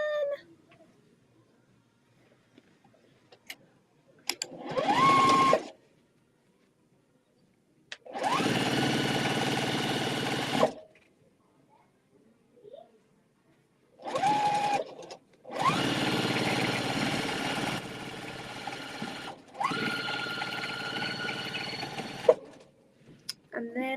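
A sewing machine stitches fabric strips together in several separate runs of steady whirring, some short and some longer, broken by quiet pauses while the fabric is handled.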